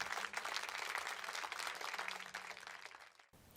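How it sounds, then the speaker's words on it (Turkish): Applause in an animated children's story about bees, a fairly soft, steady patter of many clapping hands continuing for about three seconds, then cutting off abruptly. "Yarışmanın birincisi Melisa'yı ve arkadaşlarını tüm arıcıklar uzun süre alkışladı."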